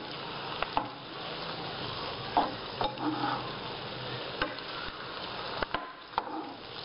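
Chicken browns in a pan with a continuous sizzle and frying hiss. Scattered clicks and scrapes of stirring come through up close, and the sound is otherwise free of speech.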